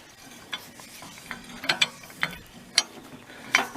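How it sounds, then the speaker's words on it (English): Hand crank on a tractor-hitched furrowing implement being turned, producing irregular close metallic clicks and ratcheting ticks spaced a fraction of a second apart, with no talking. "You got a hand crank."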